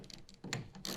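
A 1/2 inch ratchet tightens a clamp on a TonnoPro LoRoll tonneau cover fitted to a 2019 Chevy Silverado, giving a brief, faint run of soft mechanical clicks and scrapes up close, no talking.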